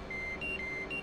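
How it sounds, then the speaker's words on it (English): A repeated electronic warning tone sounds in an F/A-18C Hornet cockpit in the DCS flight simulator game, with short steady beeps recurring over a low background hum. "She's just beeping at me."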